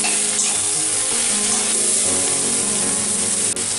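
Small chopped pieces of green jackfruit, seasoned with salt and turmeric for a Bengali jackfruit prawn curry, fry in a kadai with a loud, steady, unbroken sizzle. No one speaks.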